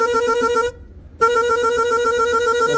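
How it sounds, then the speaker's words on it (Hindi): A loud, close pickup truck horn, newly installed, sounds in two long, steady blasts separated by a brief pause. "तो हॉर्न एक बार ऑन करके दिखाते हैं आपको"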